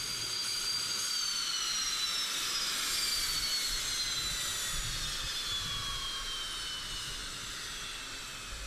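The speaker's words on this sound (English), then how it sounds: "The Su-25 is a combat aircraft that was designed to provide air support to ground forces on the battlefield." A Sukhoi Su-25 attack jet's engine roars continuously with a hissing rush and a high whine that slowly falls in pitch, loud and alone.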